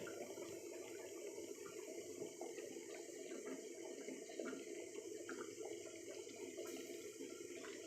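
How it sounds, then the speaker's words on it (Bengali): Rice and water with a little soybean oil boiling under a lid in a pot, giving a faint, steady bubbling hiss that runs unbroken throughout with no voices. "ঢাকনার নিচে কিন্তু পানি বলকাচ্ছে, শব্দ হচ্ছে"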